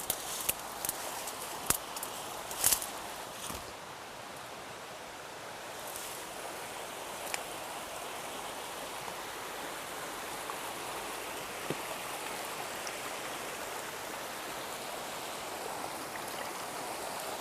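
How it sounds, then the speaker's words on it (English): Creek water running outdoors in the woods, a steady, continuous rushing wash that fills the whole stretch, with a few sharp knocks and clicks near the start and no voices. "I hear water running out there."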